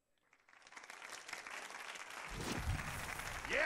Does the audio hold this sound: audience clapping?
yes